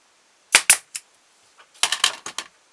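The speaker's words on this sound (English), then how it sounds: "then I'm going to put a staple in it" Several sharp, loud staple-gun shots into wood on a handmade wooden ventriloquist figure, a quick cluster of three cracks, a pause, then a rapid burst of about six more.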